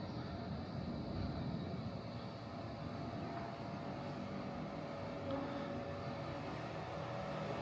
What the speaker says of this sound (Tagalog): Narinig yung aeroplano.